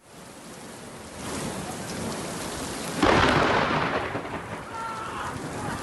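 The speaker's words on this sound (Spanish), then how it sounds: "Espectacular la tormenta que acaba de caer en la ciudad de Valladolid, con rayos como ese recogidos en el barrio de Parquesol." A thunderstorm over the city of Valladolid brings heavy rain hissing steadily, then a loud, close thunderclap booms and rolls away beneath the downpour.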